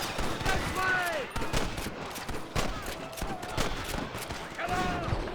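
Rapid gunfire in the Red Dead Redemption video game, a dense fusillade of sharp overlapping shots with bursts and short pauses, alongside game voices and sound effects.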